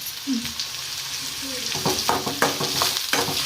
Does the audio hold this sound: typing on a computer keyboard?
no